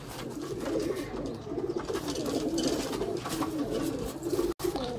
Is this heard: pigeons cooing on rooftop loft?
yes